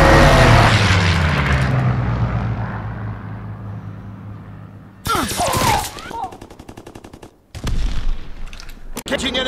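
Call of Duty WW2 fighter plane strafing run: a loud roaring engine pass fading over several seconds, then sharp bursts of rapid machine-gun fire and impacts in uneven clusters.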